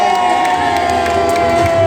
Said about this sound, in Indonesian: tepuk tangan terakhir kalinya untuk Jakarta Bondol